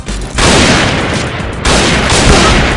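Gunfire from a PSG 90 sniper rifle in a video game, heard as a loud sustained burst of blasts that fades, then a second loud burst about a second later, with no voices over it.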